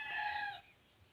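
The tail of a fighting rooster's crow, a short, clear harmonic call that cuts off abruptly after about half a second, leaving quiet background.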